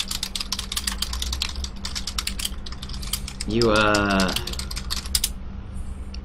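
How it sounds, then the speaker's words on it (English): Rapid, loud clacking keystrokes from a computer keyboard run almost continuously, close by, with a brief whirring mechanical sound in the middle; a single spoken word is briefly heard. "Someone was typing on the keyboard."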